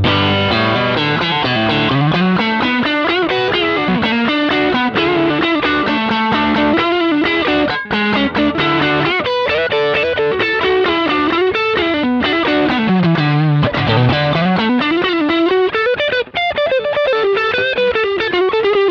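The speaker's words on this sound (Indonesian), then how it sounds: "Kita cobain overdrive-nya." An electric guitar plays through the overdrive of a Primer FX multi-effects stompbox, giving a loud, continuous, gritty sustained tone with gliding bends and melodic runs, with no talking.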